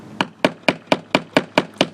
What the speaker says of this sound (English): Make sure you hammer the staple in correctly